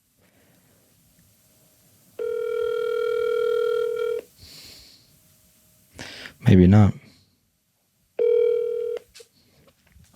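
A phone call ringing out with no answer: two long electronic ring tones separated by a pause, fairly clear and close, with a brief spoken remark between them.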